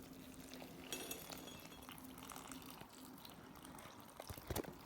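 Hot water poured into tamale masa in a bowl, giving a quiet, close trickle and splash with a few faint glassy clinks and a brief louder knock near the end.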